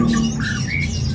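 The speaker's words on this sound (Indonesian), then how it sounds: "Ganteng amat itu burung. Sambil bunyi lagi tuh, mulai bunyi tuh" A songbird at a market bird kiosk sings in loud, warbling squawks over a busy, steady background murmur, close and continuous through the brief moment.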